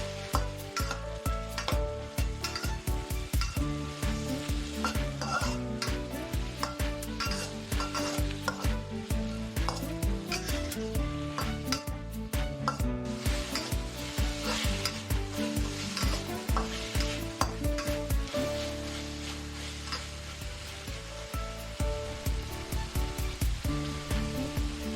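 Mixed vegetables stir-frying in a wok with soy sauce and Shao Hsing cooking wine for chap chai, a loud steady sizzle broken by quick rhythmic clanks of the spatula tossing and stirring throughout, with no talking.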